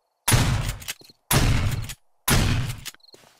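Three loud, evenly spaced blasts from a pump-action shotgun in the game 7 Days to Die, each followed by a short mechanical clack of the pump being worked, with no talk.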